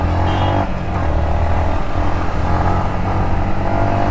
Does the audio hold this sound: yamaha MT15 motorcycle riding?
yes